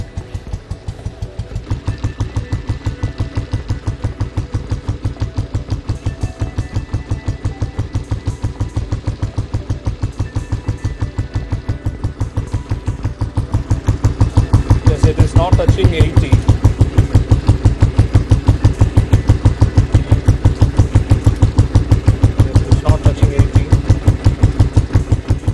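A Royal Enfield G2 motorcycle fitted with an original made-in-England silencer idles steadily with an even, rapid thumping pulse, growing slightly louder partway through, with a voice talking over it.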